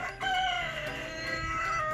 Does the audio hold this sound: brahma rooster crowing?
yes